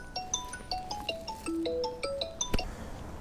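An incoming-call ringtone plays as a rapid series of bright electronic tones at changing pitches, fairly loud and close, over a soft kitchen background.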